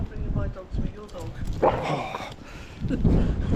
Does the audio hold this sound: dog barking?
yes